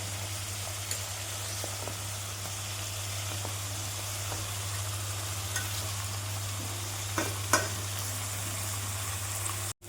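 Onions with a pinch of salt fry quietly in oil, giving a soft, even hiss over a low steady hum, broken by a few faint clinks of a spoon.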